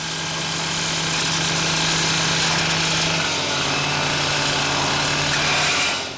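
K12 circular saw cutting through a tensioned highway cable barrier strand between two posts, a steady loud high-revving engine roar holding for several seconds without pause, no speech.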